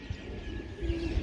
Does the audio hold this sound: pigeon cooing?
yes